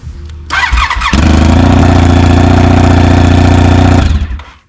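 An old sport touring motorcycle engine cranks and turns over, then runs with a steady loud mechanical drone and clatter for several seconds as the transmission spins a gear, before cutting off.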